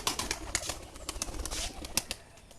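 A pigeon kept for sale stirs nearby with soft cooing and sharp bursts of wing flaps, a busy run of brisk rustles and clicks that fades briefly and then returns, with no voices.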